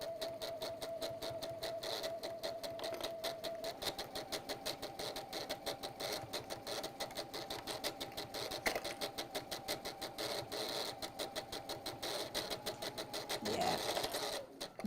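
A sewing machine stitches in a fast, even rapid-fire rhythm with a faint whine beneath, running steadily at close range while a voice briefly speaks over it.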